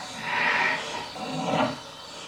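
A northern white rhino makes two breathy, rough snorting calls in a recording, each about half a second long, fairly close and moderately loud with a quiet pause between them.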